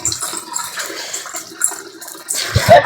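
Water is poured from a pot into a mixture while making castor oil at home in a village, a soft irregular splashing and trickling that ends in a louder gush.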